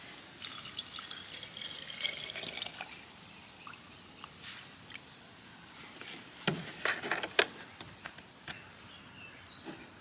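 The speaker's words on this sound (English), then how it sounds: "we're just going to put enough water in to cover it" Water poured into a jar of spiderwort flowers for herbal honey, with scattered trickles and drips over faint background hiss, intermittent and fairly soft.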